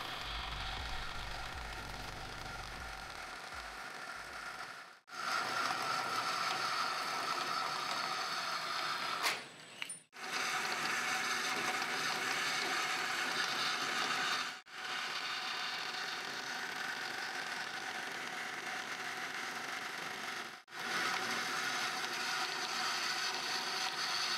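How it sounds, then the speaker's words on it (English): A Powermatic 20-inch bandsaw cuts scarves off wood in a steady, fairly quiet mechanical whir with a few brief dropouts between passes, no voices. "Here I'm using my Powermatic 20-inch bandsaw to just cut the scarves off."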